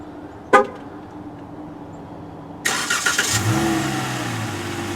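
A 2021 Dodge Challenger gives a single short horn chirp after the remote is pressed, then a moment later its engine fires up and settles into a steady, loud idle rumble.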